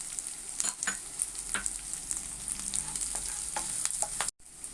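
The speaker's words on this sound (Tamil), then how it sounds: "கருவேப்பிலை போட்டுக்கிறேன், காஞ்ச மிளகா போட்டுக்கிறேன்" Curry leaves and dried red chillies crackle in hot oil for a chow chow poriyal, a steady close sizzle with frequent sharp pops that cuts out abruptly just before the end.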